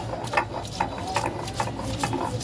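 Soaked red chilies are crushed on a traditional grinding stone, a rhythmic scraping and grinding stroke repeating about every half second, close and moderately quiet.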